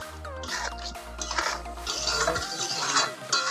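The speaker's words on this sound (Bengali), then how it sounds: "এখন একটু নেড়ে চেড়ে নামিয়ে দেব।" A spoon stirs egg curry with fried tomato, onion and green chili in a pan, making repeated metallic clinks and scrapes over a low steady hum, with no talk.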